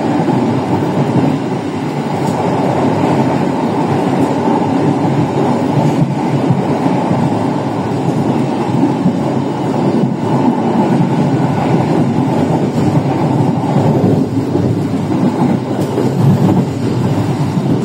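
A Pasundan economy-class passenger train runs straight through Wojo station in Purworejo, a loud, continuous rumble and rattle of wheels on track with steady roar throughout, no voices.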